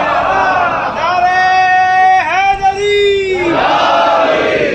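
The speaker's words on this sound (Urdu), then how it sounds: "نعرہ حیدری یا علی یہی کہتے ہیں نا" A crowd at a Shia majlis gathering roars the Nara-e-Haidari Ya Ali slogan together, a loud sustained massed shout that rises, dips briefly, then swells again.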